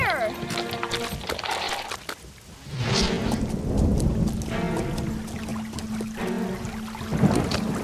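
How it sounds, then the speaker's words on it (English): A cartoon thunderstorm with rain rumbles and hisses steadily, with a louder thunder swell midway, beneath a background musical score. "They're still out in the storm."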